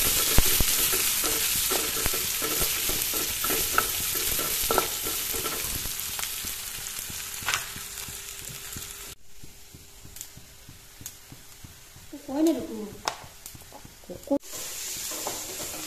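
Onions and whole cumin seeds frying in a pan for a spicy pineapple curry, a steady close sizzle with stirring scrapes and clicks, fading quieter midway before a few more stirs.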